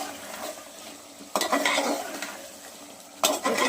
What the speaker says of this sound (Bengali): তো দেখুন এই মাংসটা সুন্দর করে কষাচ্ছি